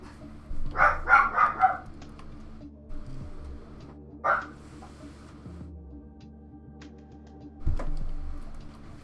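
A dog in the fantasy game Monsters & Memories gives a quick burst of several sharp barks, then a single bark a few seconds later, over a low droning game ambience with a thump near the end.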